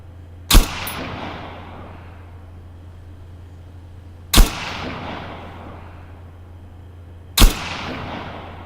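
Three single gunshots from an ASP-1 Kir rifle ring out in Arma 3, spaced a few seconds apart, each a loud sharp crack followed by a long echoing tail over a steady low hum, with no talk.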